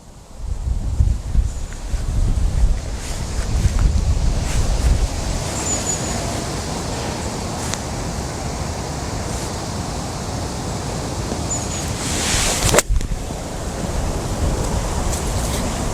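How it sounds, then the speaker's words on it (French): Steady wind gusting across an open golf course, a broad continuous rush with low buffeting against the microphone, loud and unbroken throughout. "Il y a le vent qui pousse gauche-droite"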